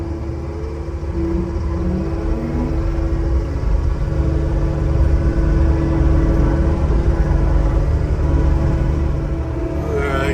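A forestry mulcher runs steadily up close, its engine drone and low rumble holding at an even, loud level throughout with a constant tonal hum and no one talking.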